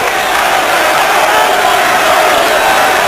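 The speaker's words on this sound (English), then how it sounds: "Crowd really baying here" A large boxing arena crowd roars and bays loudly and continuously, a dense wall of shouting voices that holds steady in intensity from start to finish.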